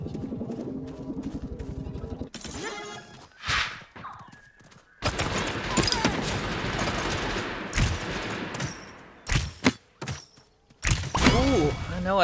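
Bursts of gunfire in the Realm Royale video game while the player is under attack, loud rapid volleys broken by short pauses and other game effects.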